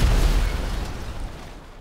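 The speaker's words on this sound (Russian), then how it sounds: "О, я все-таки байкера долбанул с пушки" A tank cannon shot explodes in the video game GTA Online, a loud, heavy boom that rumbles and slowly fades over about two seconds.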